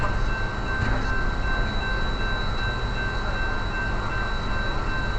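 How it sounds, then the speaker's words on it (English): A locomotive backing up while coupled to a railway tool car, a steady rumbling roll with a faint high whine, heard close and continuous. "They got Lurch out here with it hooked up to the tool car, backing it up right now"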